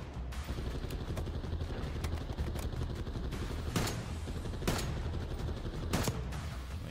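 Gunfire from a weapon in Call of Duty Black Ops 6 on PS5, a continuous clatter of rapid shots with several louder sharp bursts standing out over dense battle noise.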